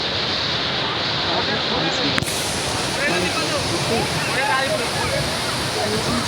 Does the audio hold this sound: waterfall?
yes